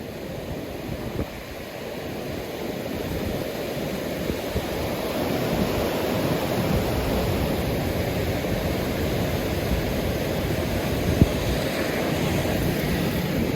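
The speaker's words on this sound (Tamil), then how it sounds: "இந்த ஓடுற தண்ணி இந்த ஸ்பீட்டை பாருங்க" Floodwater rushes fast through the opened sluice gates of the Iranamadu reservoir, a continuous loud roaring wash with steady turbulence and wind buffeting that holds unchanged.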